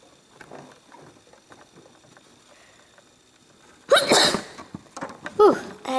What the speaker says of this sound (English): Whew, I had to sneeze there.